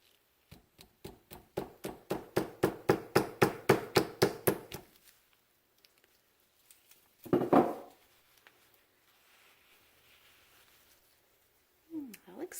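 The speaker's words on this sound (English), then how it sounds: "I'm just going to use the back side of my ball peen hammer." About fifteen quick metallic taps from the back side of a ball peen hammer strike a VW transmission axle flange, growing louder in an even rhythm, then a single heavier knock and a faint scrape follow.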